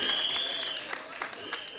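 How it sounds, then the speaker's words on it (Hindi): Audience clapping at a film trailer launch in India, a dense patter of many hands spread evenly through the moment over a steady hum of the venue, with a faint voice heard under it. "एक बार जोरदार तालियां मत बजाना इस आदमी के लिए"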